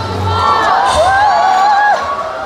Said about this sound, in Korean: 여기 지금 함성 소리를 듣자